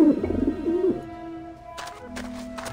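Pigeons coo in the game Grim Fandango Remastered, a soft, low, throaty warble heard up close and alone, followed by fainter background game sounds.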